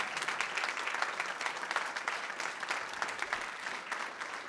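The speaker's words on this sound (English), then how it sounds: "now you can do your applause" Audience applauding a chef being welcomed on stage at a tourism and cultural cooperation forum, steady dense clapping throughout, fairly close and even with no break.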